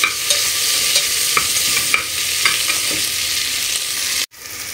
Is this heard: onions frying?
yes